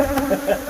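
Killer bees buzzing during a bee removal job, a loud, steady, close drone of many insects lasting under a second, with no talking.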